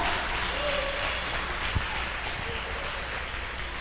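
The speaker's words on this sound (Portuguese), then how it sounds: "Quem aplauda Jesus agora?" Church congregation applauding during a sermon, a moderate, continuous spread of clapping from many people across the room, fairly even in level with a few sharper claps standing out.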